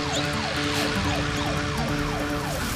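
Cartoon police car siren wailing loudly and steadily in repeated rising and falling sweeps, filling the whole stretch with no speech over it.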